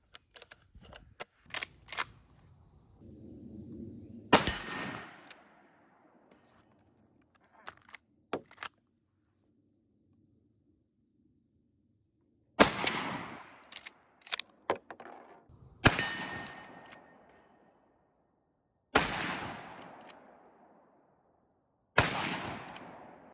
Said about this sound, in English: So this is the first time I'm test firing this.